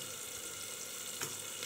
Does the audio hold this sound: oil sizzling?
yes